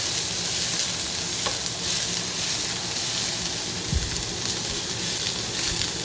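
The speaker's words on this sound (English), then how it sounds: "So again, you want to keep moving your onions around so it's getting translucent." Onions fry in a pan while being stirred, producing a dense, even sizzle close by with faint scraping movements and a brief clunk near the end, no speech.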